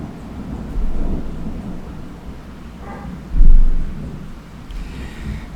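Thunder rolls during a thunderstorm: low rumbles swell around the first second and again more loudly near three and a half seconds, over a constant hiss of rain and wind, with no voices.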